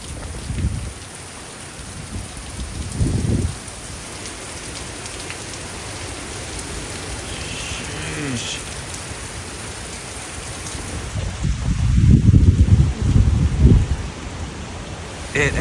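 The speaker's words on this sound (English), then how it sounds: "Something I noticed is the phone blocks the wind noise, so I took that off so you can hopefully hear how loud it actually is out here." Hurricane-force wind and heavy rain roar outdoors in Florida during Hurricane Milton, a steady loud wash of rain noise with stronger gusts building near the start and again toward the end.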